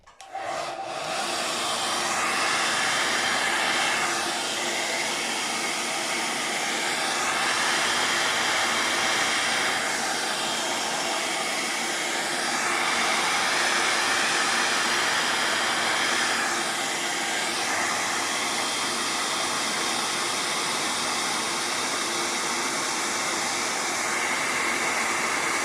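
A hair dryer blows steadily on wet paint, a continuous loud rushing whoosh that swells and eases slightly as it moves, running alone without talk.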